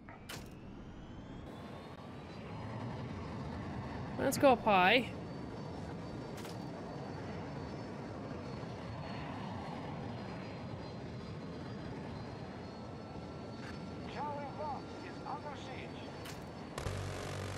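Jet aircraft engine in the video game Battlefield 2042, a steady broad roar running throughout amid battlefield chaos, with a brief louder burst early on and someone talking over it.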